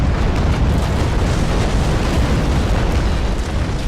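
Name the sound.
ship cannon broadside firing, from video game Naval Action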